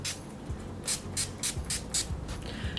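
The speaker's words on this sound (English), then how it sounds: "I'm just going to spray my face with the Prep and Set." Several quick hissing spritzes from a face mist spray bottle, about six short bursts in a loose rhythm, close and fairly soft.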